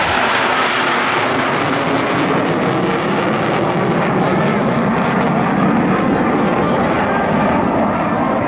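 A Royal Thai Air Force F-16B fighter jet makes a fly-by opening a Children's Day 2024 event at Wing 41 in Chiang Mai, its engine a loud, steady, broadband roar that holds close and strong throughout.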